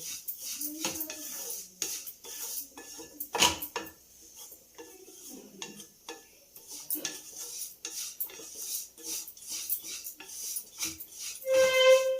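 Food being fried in a pan while scraped and stirred, with clinks of a metal utensil on cookware and faint sizzling at moderate volume, a brief tonal beep near the end, no talking.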